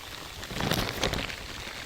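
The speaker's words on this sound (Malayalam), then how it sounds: "നല്ല മഴയും കേട്ടാ" Steady heavy rain hisses down at night, loud and even, with a brief swell of heavier drops near the middle.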